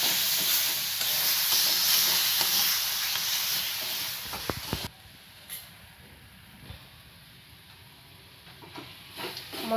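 Spice masala of salt, turmeric, cumin and coriander powder fries in oil in a pan, a loud steady sizzle for several seconds that drops to a softer crackle, with occasional scrapes of stirring.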